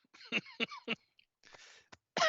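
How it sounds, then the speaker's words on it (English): A series of harsh, throaty coughs in quick bursts, close to the listener, trailing off with a few rough breaths. "that rant was so good, I'm still coughing"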